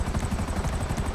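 A helicopter in the video game GTA 5 Online, its rotor giving a loud, close, rapid rhythmic thumping that continues without a break.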